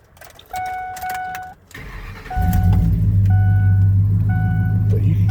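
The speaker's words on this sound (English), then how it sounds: "Let me get in and start it up." A 2006 Ford F-150 4x4 Super Cab pickup, modified, cranks and fires up after a few chimes from the cab, then settles into a loud, deep idle with a rumbling exhaust, with chimes continuing over it and a voice heard briefly.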